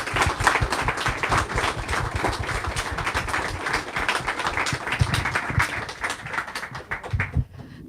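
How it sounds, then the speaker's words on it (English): Audience applause at an evening author event, a dense, steady wash of clapping from a crowd lasting several seconds before gradually thinning out. "let's give Tara a round of applause"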